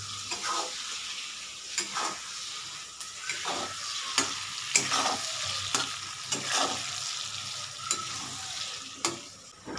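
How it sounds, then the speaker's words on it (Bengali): Potatoes and onions with spices sizzle steadily in a pan for cabbage and prawn ghonto, with repeated stirring scrapes and clicks of a spoon at irregular intervals, close and alone without talk. "এই প্রসেসটা কিন্তু ইম্পর্টেন্ট, সুন্দর করে এটাকে সাঁতলানো।"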